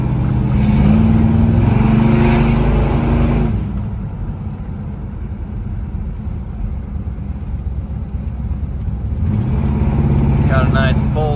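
A 1969 Pontiac GTO accelerates while driving along, its engine pulling with a loud rising roar that eases to a steady lower hum in the middle before building again, with people talking over it.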